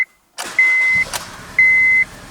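A Honda Civic 1.8 VTEC with an engine fault code starts up close by. The starter cranks, the engine catches, and a steady idle runs under two long electronic warning beeps.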